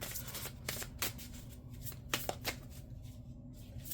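Tarot or oracle cards being shuffled by hand, a steady run of soft riffling flutters and sharper snaps at close range, with no talking over them.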